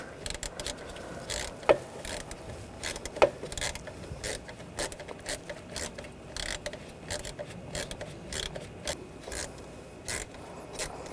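A hand ratchet works a bolt loose from the thermostat housing on a 2013-2022 Buick Encore, giving rapid repeated clicking strokes close up, with a couple of sharper metallic ticks, and no one talking.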